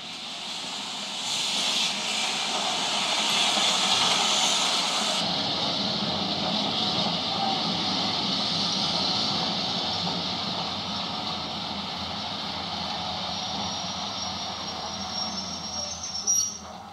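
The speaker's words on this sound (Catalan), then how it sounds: "Vam pujar al tren." A train rolling along rails, a steady loud rumble with a hissing, high metallic wheel squeal on top that fades slightly as the run continues, with no voices.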